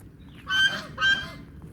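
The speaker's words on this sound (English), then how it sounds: "That's the big male goose." Two loud, nasal honks from a male goose in quick succession, close by, with a low background hum.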